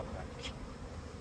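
Honey bees buzz faintly around a permanent hive after a swarm transfer, a soft continuous insect hum with one brief closer buzz passing by.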